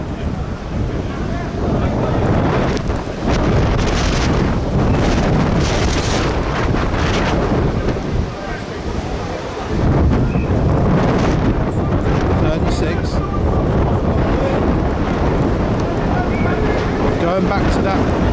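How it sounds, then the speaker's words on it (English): Wind buffeting a microphone outdoors at an American football match, heavy rumbling gusts that surge and ease, loud and close, with someone talking intermittently underneath. "Wind is dying down here."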